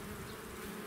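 Honey bees at a hive while frames are moved between hives, a close, continuous droning buzz of many insects, steady and even, with no talking.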